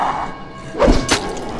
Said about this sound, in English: when you throw it towards an enemy, it's going to explode when it gets stuck in the zombie